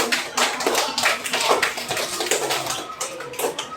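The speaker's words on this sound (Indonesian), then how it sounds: "tepuk tangan buat semuanya" Classroom of students clapping together at a teacher's prompt, a ragged burst of many hands with sharp overlapping claps that rise and fall across the whole stretch, close and fairly loud.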